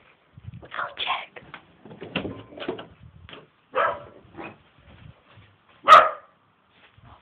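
A dog barks once, loud and close, after a stretch of indoor talking and small household noises; a voice speaks throughout the earlier part.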